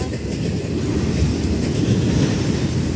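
A Norfolk Southern 20E freight train led by a BNSF locomotive rolls past in Bethlehem, Pennsylvania, a loud steady rumble of wheels on rail with faint clickety-clack, close and continuous.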